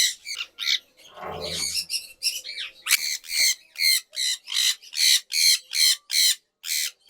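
Loud, repeated bird squawks close by, a burst of calls followed by a steady rhythmic series of harsh cries, with no talking.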